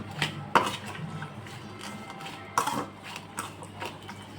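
A spoon clinks and scrapes against a bowl as chili powder and salt are mixed into eggs for a bread omelette, with two sharp knocks standing out among lighter taps.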